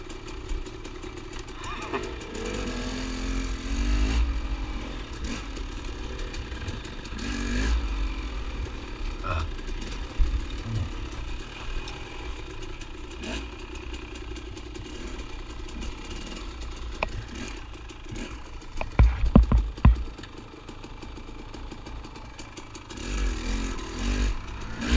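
A dirt bike on a wooded trail in December runs with a rough idle and several short revs and bursts, moderately close, with clattering in between, while people talk over it.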